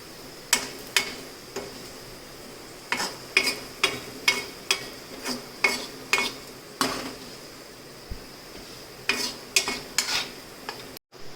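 Diced potatoes frying in a pan for sabudana khichdi, heard as a steady low sizzle broken by a run of sharp clinks and scrapes of a spoon stirring against the pan, roughly one or two every second, close and fairly loud.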